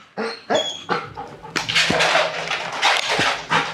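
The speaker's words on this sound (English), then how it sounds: "Sheriff's Office of the K-9! Make yourself known now, my dog will find you!" A police sheriff's office K-9 dog, working during an indoor building search, barks repeatedly and excitedly at close range, with sharp single barks at first and then a rapid, loud run of barks and yelps.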